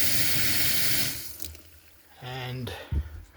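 Water runs from a tap in an overlander HGV fitted with a house-pressure water system fed by a 335-litre tank, a steady hiss that cuts off partway, followed by brief clatter and a short pump-like hum nearby.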